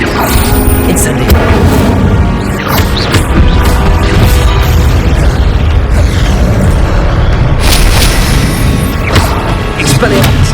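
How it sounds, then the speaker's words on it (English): Fire spell blasts in the Hogwarts Legacy video game, loud booming explosions and crashes repeating among other combat sounds, with a voice shouting spell names over the top. "Incendio!"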